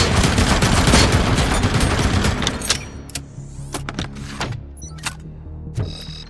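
Dense, rapid automatic gunfire in the RoboCop: Rogue City video game rattles loudly for a few seconds, then breaks into scattered single sharp shots separated by short pauses.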